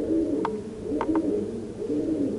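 A pigeon coos steadily in the dim underground ruins of the catacombs beneath Split, its low rolling calls repeating close by in a continuous murmur, with no voices.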